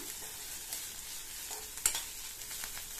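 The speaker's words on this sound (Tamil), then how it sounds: "சேர்த்து இந்த இஞ்சி பூண்டோட பச்சை வாசனை போற அளவுக்கு 1 நிமிஷத்துக்கு நல்லா வதக்கிக்கலாம்" Crushed ginger and garlic sauté in a pan with a quiet, continuous sizzle, interrupted by a few soft stirring scrapes and one sharper clink partway through.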